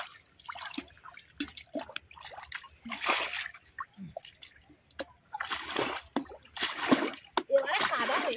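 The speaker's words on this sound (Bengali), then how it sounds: "আচ্ছা জলটা আগে এদিকে সরিয়ে দিই, জলটা চলে আসুক" Muddy water in a flooded field pushed aside by hand while fishing for fish, irregular close splashes, squelches and drips in uneven bursts, with voices talking in between.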